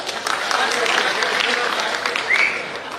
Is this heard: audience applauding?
yes